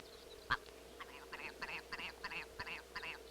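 Soft, repeated clucking calls from a willow ptarmigan hen huddled with her chicks on the tundra, a quiet run of short nasal notes over low background hiss, with one brief knock near the start.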